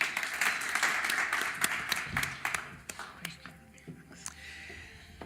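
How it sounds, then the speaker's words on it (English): Audience at a youth entrepreneurship panel launch applauding a newly introduced guest, full clapping that thins out into scattered claps and murmuring voices. "Let's give him a round of applause."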